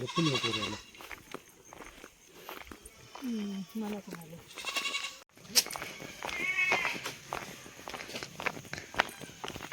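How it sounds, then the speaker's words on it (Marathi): Goats bleating in a village goat shed, several overlapping calls near and far with footsteps and shuffling, while someone talks over much of it. "इथे बकऱ्यांचा गोठा आहे"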